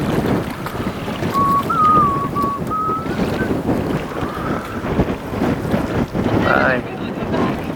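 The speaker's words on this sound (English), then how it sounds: "the wind's too strong" Strong wind while out sailing buffets the microphone in a constant rushing roar, with water sloshing against the boat and a faint whistling tone.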